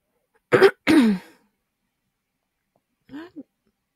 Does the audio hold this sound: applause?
no